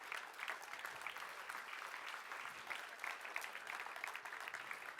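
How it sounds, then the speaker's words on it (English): A conference audience claps for the speakers at a property conference, steady dense applause lasting the whole stretch, fairly distant and even with no talk over it. "huge round of applause for Francis and Jane and Becky and Martin"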